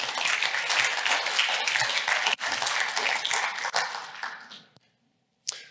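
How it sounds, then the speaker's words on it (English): An audience at a conference event breaks into applause, a dense wash of clapping that holds steady for several seconds, then thins and fades out, followed by a single late clap. "So a quick round of applause for the event."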